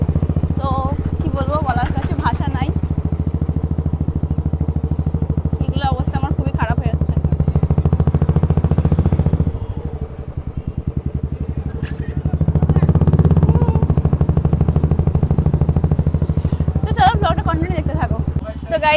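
A motorcycle engine drones steadily and close throughout a ride, with wind rumble and a brief dip in the middle, while a rider talks over it.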